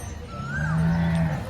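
A single low, drawn-out moo from a Gir cow at a cattle market, close and fairly loud, lasting about a second over faint background noise.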